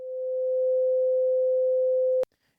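A pure sine tone raised three semitones holds steady and clean for about two seconds, swelling in at the start, then cuts off abruptly with a small click, leaving near silence.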